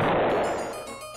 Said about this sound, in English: High quality explosion.